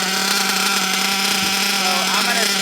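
A nitro model engine running rich holds a steady, buzzing drone throughout, close and fairly loud, with a person speaking over it.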